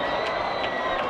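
Football crowd at Camp Randall stadium, a steady dense roar of many voices filling a short moment without a break.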